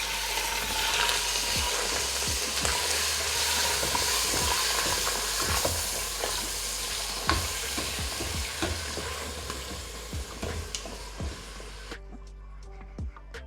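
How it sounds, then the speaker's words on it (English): Minced meat frying in hot groundnut oil in a pan, a loud continuous sizzle with scraping stir strokes throughout, cutting off near the end. "Once the oil is hot, add in your minced meat."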